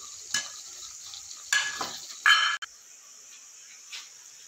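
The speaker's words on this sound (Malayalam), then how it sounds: "ഇനി ഒരു 5 മിനിറ്റ് നേരം കൂടി നന്നായിട്ട് ഇളക്കി കൊടുക്കുക." Papaya sweet mixture being stirred in a pan, a few short scraping strokes with pauses between them, close and fairly quiet over a soft steady hiss.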